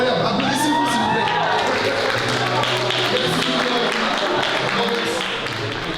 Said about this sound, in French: Incroyable, applaudissez-vous s'il vous plaît.